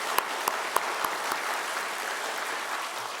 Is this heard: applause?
yes